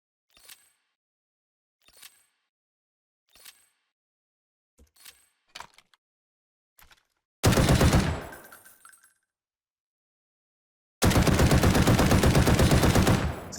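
A customized rifle in the Delta Force video game fires several sharp single shots with gaps, then two sustained loud automatic bursts, near and alone.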